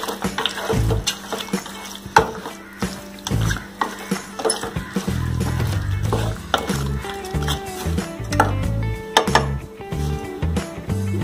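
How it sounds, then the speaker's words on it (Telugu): Chicken pulusu curry is stirred in a pan with oil, the spoon scraping and knocking in irregular close strikes under bursts of sizzling, with some talk. "మొత్తం కూడా ఒకసారి మిక్స్ చేసుకుందాం।"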